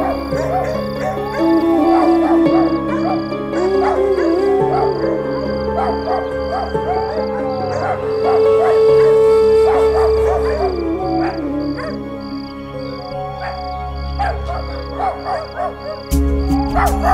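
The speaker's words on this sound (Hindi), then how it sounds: "ये सारे कुत्ते एक साथ रो क्यों रहे हैं?" Several dogs howl together in a tense night scene near Shirdi, their long, wavering wails overlapping continuously and loudly for the whole stretch, with no talking.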